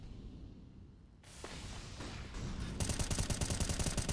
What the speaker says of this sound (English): AK's in, spray through.